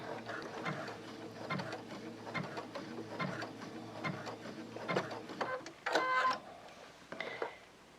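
A sewing machine tacking down rope coils to make a rope trivet, set to a 3.5 stitch width and 1.2 stitch length, with short uneven bursts of stitching and clicks up close.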